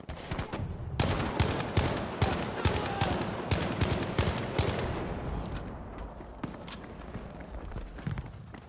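Battlefield V gunfire on PS4, with sharp shots cracking in quick irregular bursts, some close and loud, others more distant. Footstep-like rustling runs underneath, and the shots thin out toward the end.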